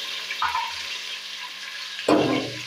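Onions fry in hot oil for a potato and eggplant curry, a faint, steady sizzle with a couple of short stirring scrapes and a louder burst of sizzling near the end.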